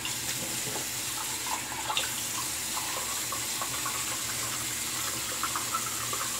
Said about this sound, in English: Rinse that blade, let it dry.